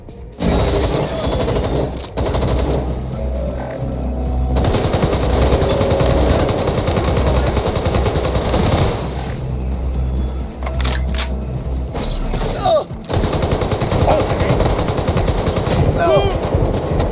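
Machine gun fire in the Watch Dogs Legion video game, with sustained rapid bursts and shots over low rumbling, broken by short pauses, loud and close, with game voices in places.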